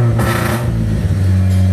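A 1999 Nissan Series 4 car engine idles close and loud with a steady low hum and a slightly uneven, misfiring pulse.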